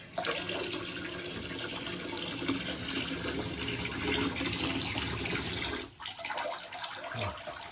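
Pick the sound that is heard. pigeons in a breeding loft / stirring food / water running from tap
water running from tap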